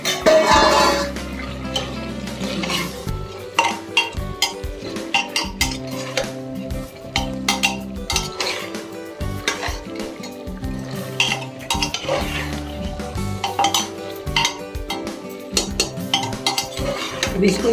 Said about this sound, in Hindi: अब इसको इसी तरह से चलाते हुए पका लेंगे 5 मिनट।